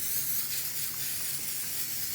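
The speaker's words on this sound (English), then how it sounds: "You just spraying them with an oil spray." Oil spray hisses steadily from a can into small 6-ounce ramekins, a close continuous airy spray with no voices.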